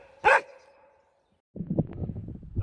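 A single loud, close dog bark rings out, trailing into a faint whine, then after a short silence a rustling, scuffling noise takes over.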